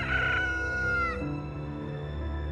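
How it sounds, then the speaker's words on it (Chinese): A rooster crows once, loud and close, a long rising then falling call that cuts off abruptly, followed by a low steady background hum. "公鸡打鸣嘛"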